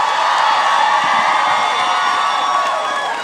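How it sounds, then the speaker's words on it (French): An audience at a comedy show in Montreal's Club Soda applauds and cheers, a broad, sustained wash of clapping and crowd noise at steady loudness throughout. "J'aimerais également qu'on donne un bon main d'applaudissement à notre sauveuse ce soir"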